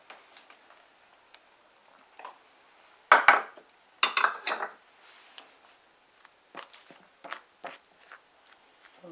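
Baking soda and baking powder are stirred into flour in a bowl for a pumpkin cake, giving quiet, irregular clinks and scrapes of a utensil against the bowl, with a few sharper knocks midway.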